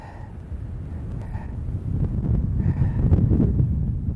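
Wind gusting over a summit on Lost Mine Trail in Big Bend National Park, Texas, a low rumbling buffet against the microphone that builds in strength, with no talk.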